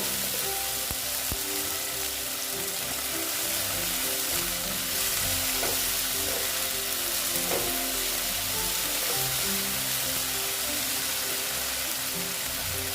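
Ginger and garlic paste fries in hot oil in a pan for a spicy katla fish dish, a continuous loud sizzle with faint stirring scrapes throughout.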